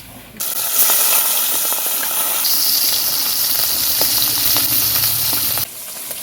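Marinated kochur loti (taro stolons) hit hot oil and break into a loud, sudden hissing sizzle that holds steady for several seconds and then drops away, close and without speech.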